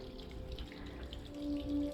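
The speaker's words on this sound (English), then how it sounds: "Oh, a little waterfall." Small waterfall near a marina, a steady soft rush and trickle of running water heard close by, continuous and moderately quiet with a brief swell toward the end.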